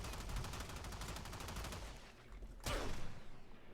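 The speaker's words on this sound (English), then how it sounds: "So now here's the Strun Wraith with the new build. I think I'm gonna need 3 shots for this." Strun Wraith shotgun blasts in the sci-fi shooter Warframe, a rapid string of loud, punchy shots with dense combat noise, a brief lull, then one sharp, heavy blast near the end.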